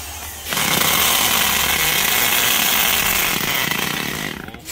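A Hitachi rotary hammer with a 13 mm chuck and full handle grip runs loud and close in a steady continuous roar, starting abruptly after half a second and easing slightly near the end.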